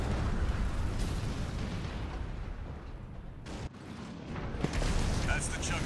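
Mines exploding in Armored Core 6, a series of muffled blasts and bursts within a loud, rumbling mech-combat din, with a sharp impact near the end and game voices talking.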